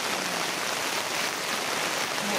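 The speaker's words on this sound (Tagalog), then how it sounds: "Umuulan na siya" Rain falling steadily at the start of a mountain trek, an even broadband hiss with no talking over it.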